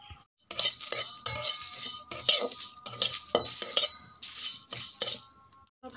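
Dried red chillies sizzle and are stirred with a metal spoon in a pan while spices are roasted for a raw mango pickle, giving repeated scraping clinks over a steady frying hiss.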